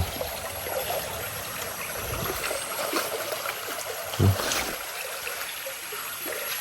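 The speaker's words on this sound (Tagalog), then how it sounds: "Hagasas ng tubig sa ilog." Steady rushing and trickling of river water flowing nearby, a continuous bright wash of sound with a brief low thump partway through.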